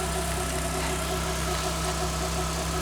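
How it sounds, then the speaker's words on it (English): A 2-liter four-cylinder car engine idles with a steady, even rumble and faint rhythmic knock, continuous and close with no talk. "This 2-liter 4-cylinder."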